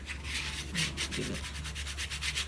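Glued paper corners on a journal cover are burnished with quick back-and-forth rubbing strokes, a close, dry, rhythmic scrape repeating about a dozen times in a couple of seconds.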